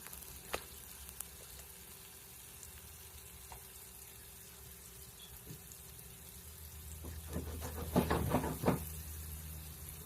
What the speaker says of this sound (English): I'm gonna let that fry like that just for the next few, seconds or so